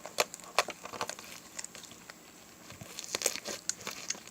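Clicky homemade slime is squeezed and worked by hand, giving a run of quiet, irregular crinkly clicks and snaps close up, with a denser burst of clicking near the end and no talking.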